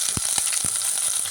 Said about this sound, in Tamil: சின்னதாக ஒரு பெரிய வெங்காயம் நறுக்கி சேர்க்குறேன்